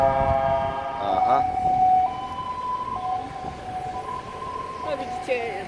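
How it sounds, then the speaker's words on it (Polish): Ambulance siren on the road near a junction in Hohenau, wailing steadily with clear pitch shifts as it passes, fairly loud over traffic rumble. "Ambulans. Jakaś karetka."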